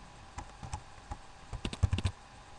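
Typing on a computer keyboard up close, a scatter of soft, quiet key clicks that starts sparse and then speeds into a quick burst of keystrokes.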